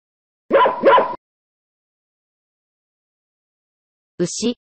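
A dog barks twice in quick succession, close and clear, followed by silence and then one more short double bark a few seconds later.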